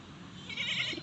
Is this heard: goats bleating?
yes